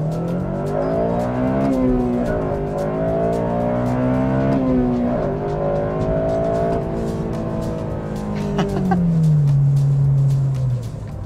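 A Honda Civic Si with a K-series engine, 8th generation, revving hard through rising and falling pitch sweeps that climb high, then settle into a steady lower drone, loud and close with no speech over it.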